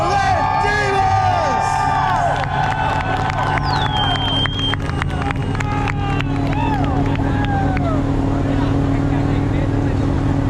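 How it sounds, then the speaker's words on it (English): Crowd cheering at the LZ Invitational event: a loud, sustained roar with piercing whistles and yells, and an announcer talking over it throughout. "I want to to hear the loudest cheer of the day"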